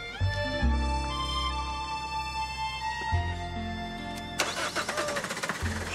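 A car engine cranks and catches after a battery cable is reconnected, then settles into a steady, loud idle with a few revs near the end.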